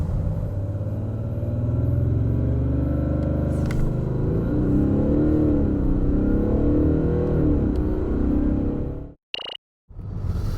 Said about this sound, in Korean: 과연 이번 S6 TDI가 얼마만큼의 가속 성능을 보여주는지 한번 확인해 볼까요?